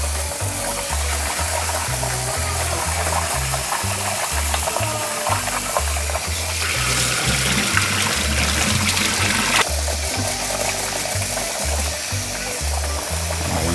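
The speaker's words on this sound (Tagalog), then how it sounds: "Hugasan muna natin ang bigas." Three cups of rice being washed by hand in a bowl of water, a steady close trickling, sloshing and stirring throughout, growing briefly brighter and busier partway through, with no talking.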